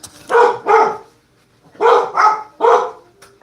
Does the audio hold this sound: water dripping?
no